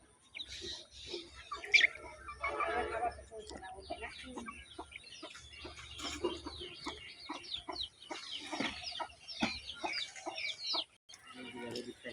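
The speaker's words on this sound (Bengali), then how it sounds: "মুরগি।" Chickens feeding in a yard cluck and squawk in a busy, irregular chorus of short calls, with occasional faint talk and household sounds underneath.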